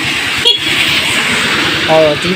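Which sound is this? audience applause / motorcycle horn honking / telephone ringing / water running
motorcycle horn honking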